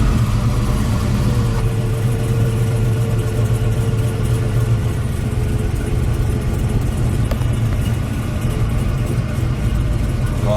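The LS3 V8 of a 1968 Chevrolet Camaro with a Tremec six-speed manual runs loud and close, a steady deep rumbling idle with a slight rise in revs, continuing without pause and no voices.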